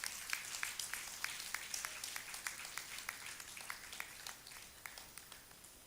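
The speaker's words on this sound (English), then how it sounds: "Let's give her a big round of applause." Members at an Inner Wheel Club gathering in Coimbatore clap in a faint, distant applause, with individual claps standing out in a loose, fairly regular rhythm throughout.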